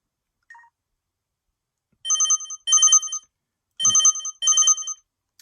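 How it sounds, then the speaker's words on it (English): An LG Prada KE850 mobile phone plays a ringtone: a short beep, then four bright electronic bursts in two pairs of repeating trilling tones, clean and close with silence between. "Let's take a listen at these ringtones."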